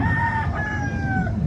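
A gamefowl rooster crows once at a market expo in Cebu City, a clear drawn-out call over a busy murmur of crowd noise and background chatter.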